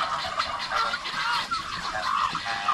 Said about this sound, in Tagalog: Napakaingay po sa ating mga binggala doon sa kabila.